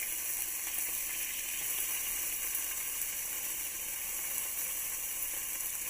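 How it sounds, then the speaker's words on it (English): Raw beef searing in a hot pan over medium heat for a stir fry, a steady, dense sizzle held at an even level throughout with no talk. "So I'm going to lay the beef out so it all is touching the pan so we can get a nice even sear on"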